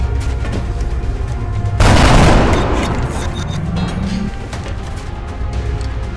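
A squad opens fire together in the XCOM Long War video game, a loud burst of overlapping gunshots lasting about two seconds and then fading into quieter game ambience, with no talk.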